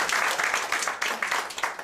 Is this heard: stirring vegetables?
no